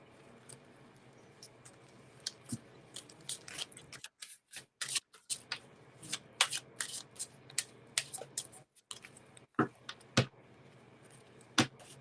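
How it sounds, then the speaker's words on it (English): Tarot cards are shuffled and pulled during a live psychic reading, a close run of soft riffling flicks, taps and slides in uneven bursts with short pauses between. "Give me a second while I'm going to pull out a card for Sophia."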